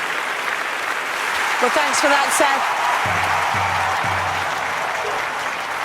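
Steady applause from a large crowd at the London 2012 gymnastics vault fills the arena throughout, with a commentator's voice speaking briefly over it.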